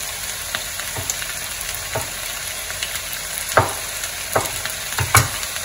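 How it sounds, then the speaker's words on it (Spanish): Chopped tomato fries in a pan with other ingredients, a steady close sizzle broken by occasional scrapes and clicks of stirring, with no talking. "Ya cuando está todo bien guisadito, vamos a echar el jitomate."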